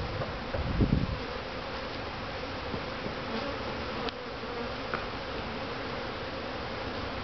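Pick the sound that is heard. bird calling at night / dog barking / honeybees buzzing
honeybees buzzing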